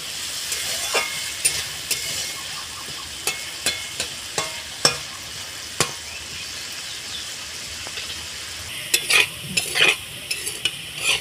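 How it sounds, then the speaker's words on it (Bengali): Potatoes fry in a pan with a soft continuous sizzle, while a spatula stirs them in a series of sharp scraping clicks at an uneven rhythm. "আমি আলুটাকে ভেজে নেব। আলুটাকে ভালোভাবে ভেজে নেব।"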